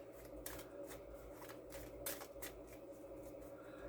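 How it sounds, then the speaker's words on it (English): Sleeved playing cards riffle-shuffled over and over, each pass a quick crisp fluttering burst of slipping plastic sleeves in a steady rhythm, close and clear with no talk. "These cards are sleeved, so the riffle shuffling is easier that way."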